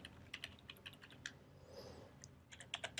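Keys clatter on a computer keyboard while text for search bar scope buttons is entered, a quick irregular run of light clicks in bursts, fairly close and clear, with no one talking.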